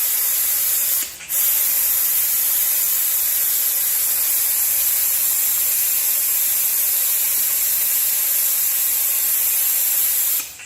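Air drawn through the system of an Alfa Romeo Mito with a gravity air tool during a repair: a loud, continuous hiss that holds steady for about ten seconds, with a brief dip near the start and no talk.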